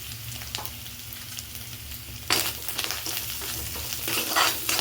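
Food fries in a pan with salt and turmeric, a soft steady sizzle with stirring scrapes that swells abruptly louder midway, as if fresh ingredients or paste hit the oil, continuing as a brighter crackle.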